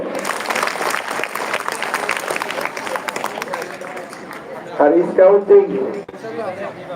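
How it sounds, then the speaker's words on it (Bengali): Students and staff at a high school assembly break into a crowd's applause, a dense patter of clapping that fades after a few seconds and gives way to nearby talking. "আবার করতালি করে"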